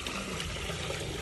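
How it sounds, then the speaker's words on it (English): Dye poured down a drain makes a brief, steady rush of trickling liquid, continuous and fairly close throughout. "Okay, Rick, pour the super dye down that drain."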